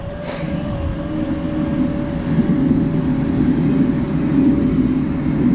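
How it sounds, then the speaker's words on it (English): The Warm Ponds train rumbles past nearby in a steady, continuous roar with a low droning tone, swelling slightly toward the end. "Here comes the Warm Ponds train."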